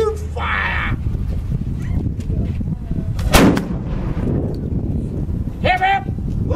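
A single loud cannon blast booms at a Fort William Henry reenactment, close and sharp with a rolling tail, while people shout commands before and after the shot.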